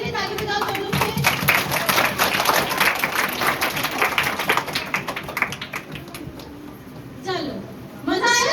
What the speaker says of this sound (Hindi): चलो, अब लोग अपने लिए खुद के लिए ताली बजाओ सब लोग से।